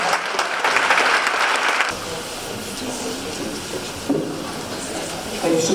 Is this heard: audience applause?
yes